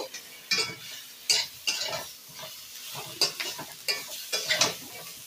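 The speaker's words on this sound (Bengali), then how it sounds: "এই মশলাগুলো দিয়ে সবজিগুলো কিন্তু আবারও আমি কষিয়ে নেব।" Vegetables and spices are sautéed in a pan for a Bengali tiger prawn curry with vegetables and bori, giving a steady soft sizzle broken by repeated scraping stirs of a spoon against the pan, close and without speech.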